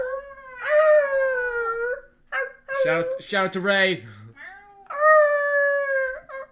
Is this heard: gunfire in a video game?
no